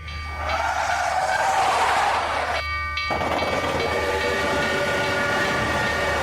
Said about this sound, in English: I could hear the train in the distance, but I didn't care.